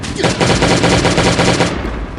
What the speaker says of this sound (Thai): ปืนยิงเลยแล้วกัน